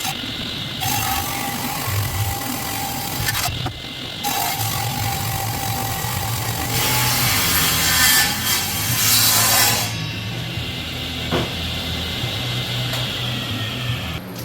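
A hand saw cuts through birch wood for a bed leg, with broad, rasping strokes running almost continuously and loudest in the middle stretch, close and steady with brief pauses.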